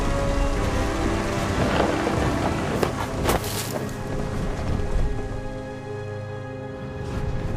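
Thunderstorm with heavy steady rain, a dense wash of rainfall with rolling thunder rumbling and cracking loudly near the middle, then easing back to a constant downpour.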